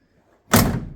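A 1962 Pontiac Catalina two-door hardtop's door, its skins a little rough, shuts once with a loud, close, heavy slam and brief rattle after near silence.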